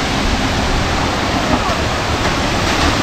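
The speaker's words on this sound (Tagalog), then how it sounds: "Oy, ito yung falls." Waterfall at a resort, a loud continuous rushing roar that fills the whole clip without a break.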